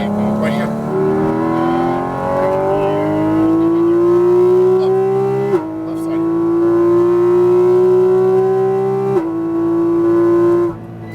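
A Porsche 718 Cayman GT4 RS on a Las Vegas race track accelerates hard, its engine note climbing steadily through two upshifts with brief dips between them, loud and close from inside the car. A faint voice sits under the engine at times.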